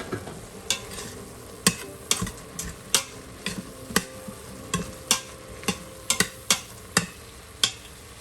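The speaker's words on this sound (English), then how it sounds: "We're going to add the dry spices and give it a stir." A spoon scraping and knocking against an Instant Pot while stirring meat, onions and dry spices, giving irregular sharp taps over a faint sizzle, close and with no talking.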